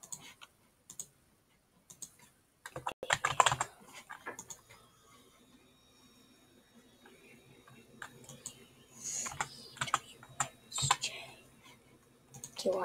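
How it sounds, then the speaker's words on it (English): Bursts of clicky keyboard typing while coding come in uneven flurries with quiet gaps, close and fairly soft, with some faint talk in between. "hear me typing code"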